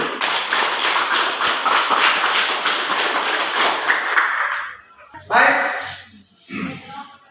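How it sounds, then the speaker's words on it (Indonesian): Students in a classroom clap for all the presenting groups, a brisk, rhythmic burst of hands at close range that stops after about five seconds, followed by a few thumps and brief voices. "Tepuk tangan untuk semua dulu"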